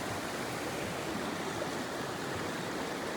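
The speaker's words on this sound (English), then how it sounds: "And you can hear the force, the power of that water." The flooded Avon River rushes over its broken banks beside a bridge, a steady, dense roar of water with no break.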